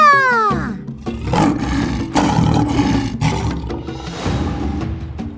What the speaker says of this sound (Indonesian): suara singa